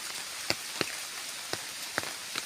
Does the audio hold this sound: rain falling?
yes